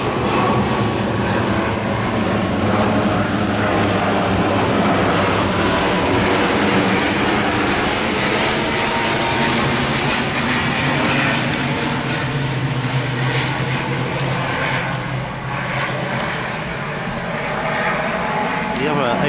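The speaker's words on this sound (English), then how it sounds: "The other ATR 72 Aer Lingus. This is from the one from Belfast." An Aer Lingus ATR 72 turboprop airliner roars steadily and loudly nearby, its propeller drone holding continuously throughout with a slight dip near the end.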